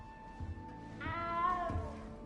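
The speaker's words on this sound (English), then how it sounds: "You don't need to be frightened, little cat." A small, frightened cat in Hogwarts Legacy gives a single drawn-out meow, fairly close and clear, over a quiet low background hum.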